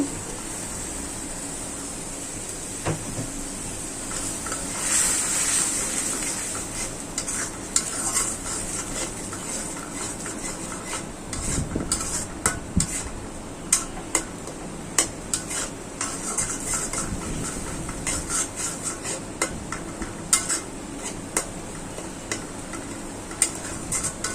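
Masala being stir-fried with shrimp in a pan, with steady sizzling throughout and repeated light scrapes and taps of a utensil against the pan.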